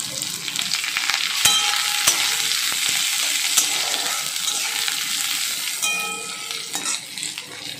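Chopped onion frying in a pan alongside garlic pieces, giving a loud, close, continuous sizzle with scraping stir strokes and small utensil clicks throughout, no talk.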